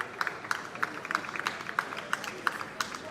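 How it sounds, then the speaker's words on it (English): A small crowd cheers outside on the night of the 2024 UK general election, with faint, evenly spaced rhythmic claps under a low murmur of voices. "Someone's filming them and they're having a little cheer."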